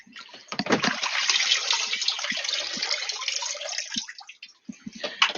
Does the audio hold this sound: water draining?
yes